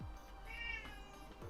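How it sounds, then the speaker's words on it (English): A kitten gives a thin, drawn-out meow that rises and falls, then a brief second cry near the end, faint and somewhat distant against quiet room noise. "Can you hear the kitten? She's so demanding."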